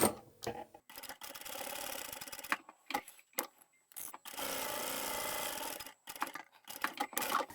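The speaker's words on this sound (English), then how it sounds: "All right, let's backstitch here." A sewing machine stitches and backstitches a seam on a simple beginner tote handbag, running in a few bursts of whirring needle motion separated by quiet pauses, faint and close.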